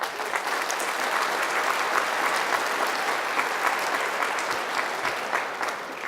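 Steady, dense applause from an audience at a Monroe, Louisiana announcement event with Governor John Bell Edwards, sustained at an even level throughout without pause.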